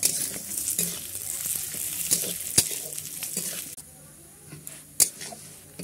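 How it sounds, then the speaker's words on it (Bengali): Lentils frying in hot oil with dried chilli, bay leaf and cumin, a steady sizzle broken by stirring scrapes and a few sharp clanks of the spoon against the pan. "ডালটা এবার এর মধ্যে দিয়ে আমি ভালো করে লাল লাল করে ভেজে নেব"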